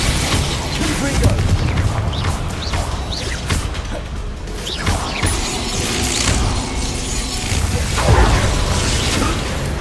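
Confringo fire spell blasts in a Hogwarts Legacy duel: repeated loud booms and crashing impacts over a dense, constant layer of combat clatter.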